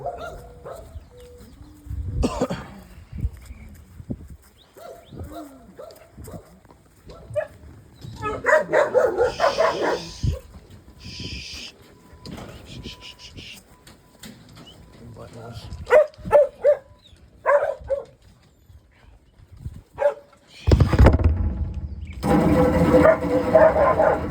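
Dogs bark repeatedly in bursts while people talk over them, the barking growing louder and more frantic toward the end.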